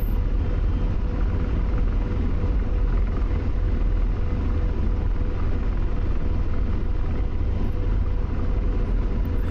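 Steady, heavy rotor and engine drone from an AH-64 Apache helicopter in the DCS combat flight sim, loud and unbroken throughout, with no voices.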